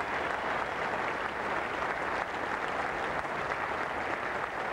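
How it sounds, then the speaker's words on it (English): Sustained applause spreading around the ground from a cricket crowd at a 1995 England versus West Indies Test, a dense even wash of clapping with no voices on top. "Applause now thickening right around the ground."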